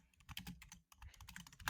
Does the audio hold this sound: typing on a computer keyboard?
yes